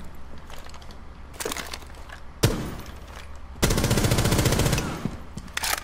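Gunfire rattles in Rainbow Six Siege, a few single cracks and short bursts, then a sustained full-auto stream, loud and close with no talk.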